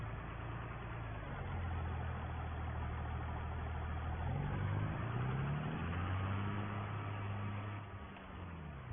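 Renault tractor engine in a farming video game, a steady low idling rumble that rises in pitch and revs briefly midway, then settles and fades slightly at the end.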